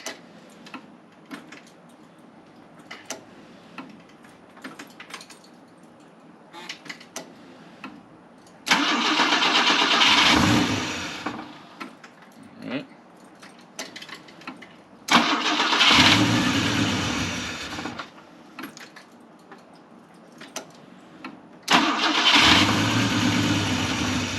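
A 50-year-old Volvo 164E engine that sat unused for 20 years is cranked in three long, loud bursts, with soft ticking and clicks between them. The last burst sounds rougher as the engine begins to catch.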